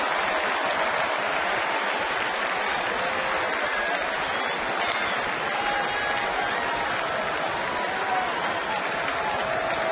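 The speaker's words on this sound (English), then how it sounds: "gets a standing ovation when it was put up on the scoreboard from the crowd here at Fenway" A baseball crowd at Fenway Park gives a standing ovation, a sustained wall of clapping and cheering that stays loud and even for the full ten seconds.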